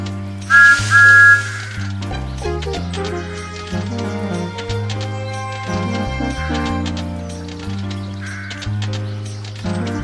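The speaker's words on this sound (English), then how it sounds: "This is Thomas's whistle." Thomas the Tank Engine's whistle gives one short, bright toot near the start of a railway video game scene, followed by cheerful background music that carries on alone, with a fainter whistle-like tone returning near the end.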